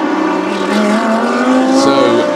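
A 888 Racing Mercedes GT race car at Yeongam, Korea, passes loudly, its engine note rising and shifting pitch as it roars by at close range.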